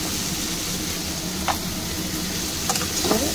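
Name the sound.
potato and onion frying together in a pan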